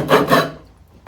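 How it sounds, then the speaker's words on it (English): Steel rasp strokes across a wooden hammer handle clamped in a vise, two close, loud scraping passes followed by a fading tail and a brief final scrape. "I'm going around with my rasp"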